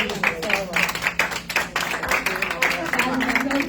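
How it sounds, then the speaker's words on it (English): Clapping from a modest crowd at a community health center grand opening, uneven rhythmic claps with audible talking and voices mixed in. "Another round of applause for you."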